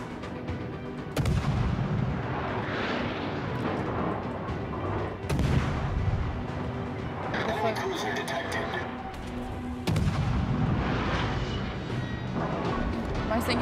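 Heavy naval gun salvos boom from warships in World of Warships, about four deep blasts spaced a few seconds apart over constant engine and sea rumble, with a person talking throughout.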